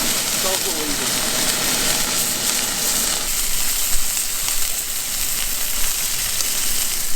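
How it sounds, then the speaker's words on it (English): Food frying on a gas stove gives a steady, loud broadband sizzle that runs the whole time, with a few brief talking bits near the start. "Oh, that sizzle. That's a good sizzle."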